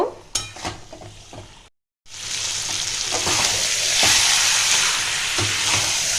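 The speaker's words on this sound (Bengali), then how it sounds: "এইটাকে ভালো করে আমি নাড়িয়ে চাড়িয়ে নেব।" Mutton frying with spices in a pan is stirred, with scraping clatter, then a brief silence before a loud, continuous sizzling hiss with occasional stirring scrapes.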